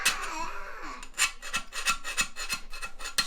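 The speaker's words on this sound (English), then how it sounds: "first we want to get the old caulking off" A tool scrapes old caulking off the base of a toilet laid on its side, giving a series of rhythmic rasping strokes, close and fairly loud with no speech.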